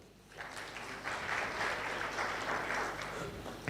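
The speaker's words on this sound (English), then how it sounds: "A round of applause for Joyce again" Applause for Joyce at the official launch of Ripple Effect Kenya, formerly Send a Cow Kenya, as a room of clapping hands swells in after a quiet start and holds steady and moderately loud.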